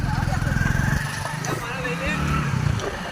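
A motorcycle engine rumbles steadily while riding, with wind noise and people talking over it.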